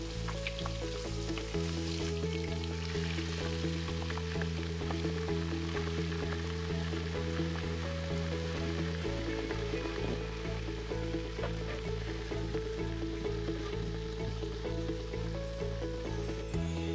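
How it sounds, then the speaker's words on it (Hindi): Overnight-marinated chicken tikka deep frying in hot oil, a steady, dense sizzle and crackle that holds evenly throughout over a low background hum, with no voices. "इसे हम डीप फ्राई करेंगे ताकि अंदर तक अच्छे से गल जाए"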